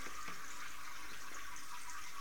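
Water flows through a siphon hose while cleaning gravel or sand in an aquarium, a steady soft trickling and rushing hiss with faint gurgles, continuous and close.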